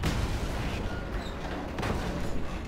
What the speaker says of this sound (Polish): Czyli gościu zginął i okręt wybuchł